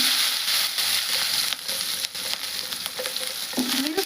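Green chilli pieces frying in hot oil in a pan for a cabbage chutney, a constant close sizzle with a few scrapes and stirs, and no one talking.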